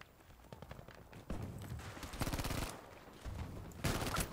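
Shotgun blasts in Battlefield V, a few sharp, fairly close bursts spaced across a quiet stretch of in-game battle ambience, with no talk over them.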